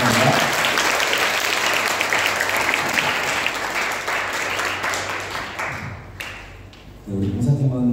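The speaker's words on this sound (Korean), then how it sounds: "우리 박수 한번 다시 한번 하겠습니다" A church congregation at a Sunday service applauds to bless a volunteer team: dense, steady clapping for about seven seconds, which thins out before a voice begins speaking near the end.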